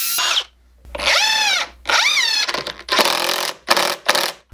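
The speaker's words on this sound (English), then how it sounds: "it might also be a good idea to pre-drill each of these holes to help prevent cracking" A power drill bores pilot holes into a 2x6 wooden board to keep the screws from cracking it. It runs in several short bursts, its motor whine rising and falling in pitch, with brief pauses between them.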